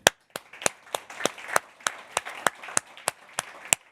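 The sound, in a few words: audience applause for the host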